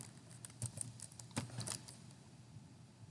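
Fingers tap briefly on a computer keyboard, a short faint burst of a few clicky keystrokes up close against a quiet room hiss.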